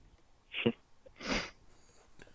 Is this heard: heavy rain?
no